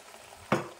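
Ridge gourd with turmeric, cumin-coriander powder and ginger cooks in a pan, a faint low sizzle followed by a single sharp scrape of a spoon stirring the mixture.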